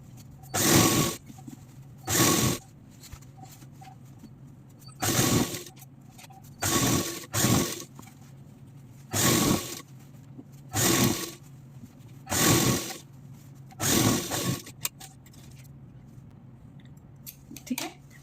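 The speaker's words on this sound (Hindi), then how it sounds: "और सिलाई चला देंगे" A sewing machine stitches a circular umbrella plazzo in about a dozen short, even bursts of whirring, each lasting under a second and separated by brief quiet gaps, heard close up.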